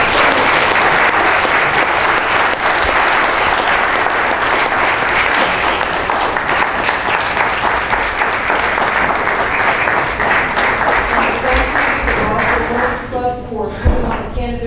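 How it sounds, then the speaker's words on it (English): Sustained loud applause from a debate audience for the Fulton County Commission candidates, steady dense clapping that thins out and fades over the final seconds. "let's give these candidates a round of applause"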